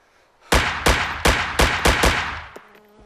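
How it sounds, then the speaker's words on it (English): Gunfire in the DayZ game: six sharp, loud shots in a steady rhythm, each ringing with a bright decaying tail, followed by a fainter click and quiet. "Oh, is that you shooting?"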